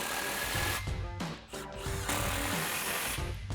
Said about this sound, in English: we'll grab our impact, switch to our 15mm socket